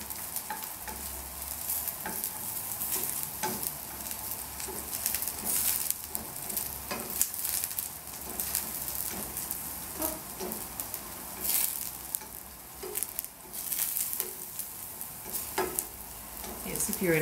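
Vegetables for a Provençal ratatouille fry in a pot with a continuous crackling sizzle, broken by repeated scrapes and clinks of stirring, close and with no talking.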